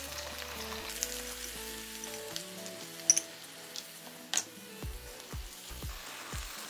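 Onions drop into hot oil with whole spices and fry quietly, a soft, close sizzle broken by a few sharp pops and crackles, with a faint hum underneath and no talking.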